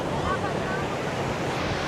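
Ocean waves washing onto a beach at sunset, a continuous broadband surf roar with wind across the microphone, steady and fairly loud, with faint voices in the background.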